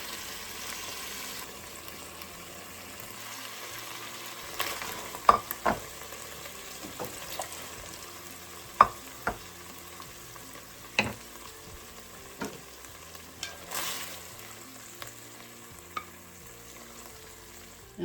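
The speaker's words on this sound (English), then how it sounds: "I'm going to keep sauteing this until they are" Vegetables seasoned with black pepper sauté in a pan on the stove for chicken gnocchi soup, a soft steady sizzle broken by occasional sharp clinks and scrapes of a utensil against the pan.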